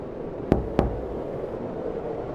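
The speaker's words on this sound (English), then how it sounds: "A knock sounded from the glass in front of them." Two sharp knocks on a glass window land in quick succession, close and distinct, over a steady low background hum.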